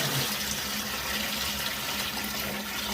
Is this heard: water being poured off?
yes